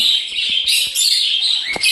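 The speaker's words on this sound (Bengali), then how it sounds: "এই যে পাখিটা দেখতে পাচ্ছ তোমরা এটা হলো সেই অপালাইন বাজিস" Opaline budgerigar chirping in a quick run of bright, high tweets and warbles, close and fairly loud, with no voices.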